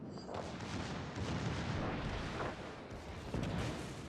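Big naval guns on warships firing in a naval battle video game, a continuous thundering barrage of booming shots and rumbling blasts overlapping one another, loud and dense throughout.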